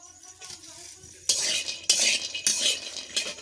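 Cashew nuts being stirred and fried in a pan at home, with metal spoon scrapes and clinks against the pan in bursts over a soft background sizzle, close and fairly loud, no talking.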